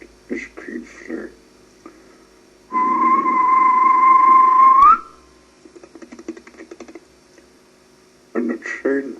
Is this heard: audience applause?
no